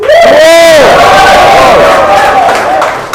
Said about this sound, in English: I want you to cheer him on, guys.